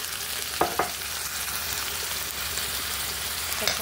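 Ginger garlic paste fries in a pan for Andhra-style gongura chicken curry, a dense, steady sizzle close by with a couple of faint clinks of a spoon.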